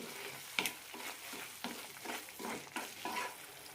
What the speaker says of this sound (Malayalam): ഒന്ന് രണ്ട് മിനിറ്റ് കൂടി നന്നായി വഴറ്റിയെടുക്കാം